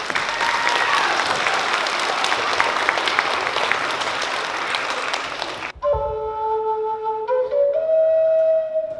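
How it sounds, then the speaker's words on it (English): A school audience applauds seniors with steady, full clapping for about five and a half seconds, which then cuts off abruptly and gives way to sustained musical tones. "So can we give them a round of applause?"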